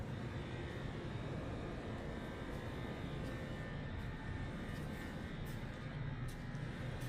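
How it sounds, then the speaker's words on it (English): A steady, low V8 engine rumble from a 1961 Ford F-250 4x4 pickup with dual exhaust runs continuously, fairly faint and even in level, with no talking over it. "start it up, let's hear it run"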